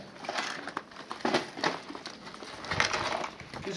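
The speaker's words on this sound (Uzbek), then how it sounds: "Kechqurun oldim men bu kaptarlarni." Pigeons picked up in Oltiariq give soft, close cooing mixed with wing flutters and rustling, a busy, uneven texture with no talking.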